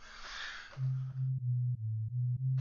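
Default sine tone from a Pure Data synthesizer patch: a steady low pure tone starts under a second in, holding with a few brief dips and clicks, loud and alone after fading background noise.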